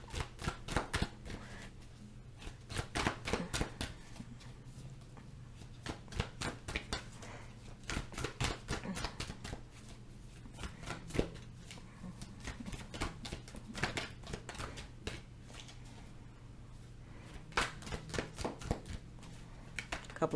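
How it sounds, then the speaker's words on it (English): Tarot cards are shuffled by hand in a quiet room, giving close, crisp bursts of riffling and snapping card edges that recur in irregular clusters over a low steady hum. "Couple of more shuffles so I can get my last couple of cards"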